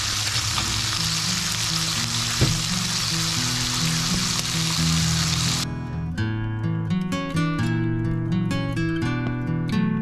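Bacon frying in a pan at an RV campsite in Pennsylvania, a loud, close, steady sizzle that cuts off partway through as music takes over.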